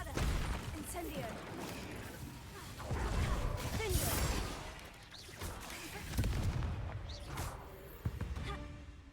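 Spell blasts from Bombarda and Incendio in the game Hogwarts Legacy: dense, continuous booms, crashes and whooshing bursts layered over one another, loud and busy throughout with brief sharper impacts.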